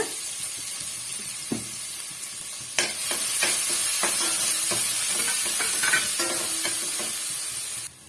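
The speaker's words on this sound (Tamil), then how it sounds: "வெங்காயம் நல்லாவே வதங்கி வரணுங்க" Steady sizzling and frying of onions sautéing in a hot pan, with occasional scraping stirs and clinks of a spatula, close and continuous.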